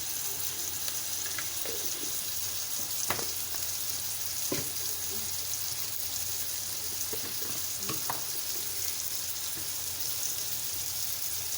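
Eggplant rings fry in hot oil with turmeric, ginger-garlic paste and red chilli, a constant close sizzle broken by occasional light clicks and taps of a utensil.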